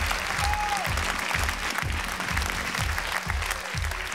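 Studio audience applauding on the Armenian X-Factor televised talent show, a steady wash of clapping that stays loud throughout with dense, sustained claps, while music plays underneath.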